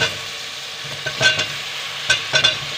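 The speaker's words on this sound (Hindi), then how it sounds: "आधा किलो आलू इसमें डालेंगे" Half a kilo of potatoes goes into frying masala for an aloo salan, bringing a low continuous sizzle punctuated by a few sharp, close spoon scrapes against the pan.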